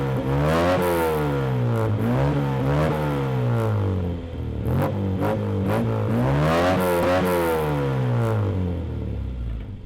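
Car with an aftermarket exhaust revving hard in repeated rising and falling blips, loud and close, the engine note climbing and dropping several times with a short dip midway and no talking.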